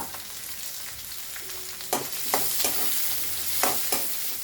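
Semiya being stirred with ghee in a pan: a soft, continuous sizzle broken by several scraping strokes of a spoon against the pan, close and fairly quiet.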